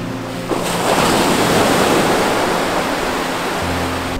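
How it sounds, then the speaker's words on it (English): Ocean surf rushes onto the beach at Anna Maria Island in a broad, steady wash of noise, close and fairly loud, with no voices. "Even the sound of the waves."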